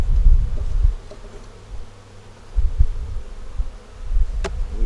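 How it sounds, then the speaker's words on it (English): Honey bees fly around a hive, their low buzzing drone swelling and fading as individual insects pass close to the microphone, with quieter gaps between the louder passes. "so the bees are out flying"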